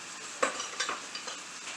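Shrimp with Cajun seasoning and chopped garlic fry in a pan, giving a quiet steady sizzle broken by a few soft stirring scrapes.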